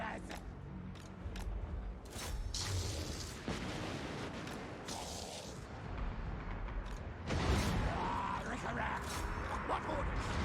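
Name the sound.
Skaven Doom Wheels attacking archers in Total War: Warhammer 2 video game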